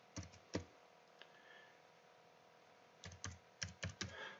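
Someone types on a computer keyboard in a quiet room: a couple of sharp keystrokes, a long pause, then a quick cluster of clacking key presses.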